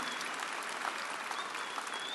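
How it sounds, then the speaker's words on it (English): An opening ceremony audience at the Darwin Aboriginal Art Fair claps in a dense, steady wash of applause, fairly distant and even throughout. "let's give a round of applause for the DAAF people"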